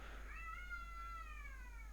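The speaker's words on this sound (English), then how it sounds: "I could just hear some cats wailing" Cats wailing in a drawn-out caterwaul, several rising and falling harmonic cries held for about two seconds, faint and somewhat distant over a steady low hum.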